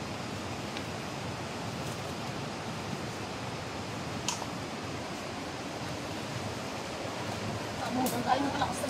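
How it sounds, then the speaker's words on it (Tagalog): Strong floodwater rushes during Typhoon Enteng as a continuous, even roar that fills the whole stretch at steady loudness, with faint knocks and splashes now and then. "Nabutan kami ng malakas na baha guys."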